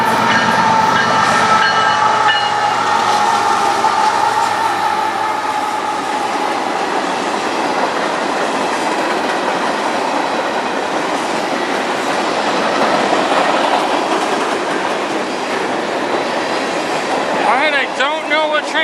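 A train rumbles past close by, continuous heavy rolling noise with rhythmic wheel clatter and a faint squeal near the end.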